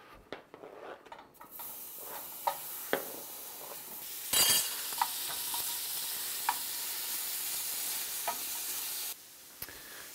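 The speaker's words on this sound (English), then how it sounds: "we'll just throw this in our frying pan" Steady sizzling of bacon frying in a pan, a broad hiss throughout with occasional clinks and scrapes of utensils.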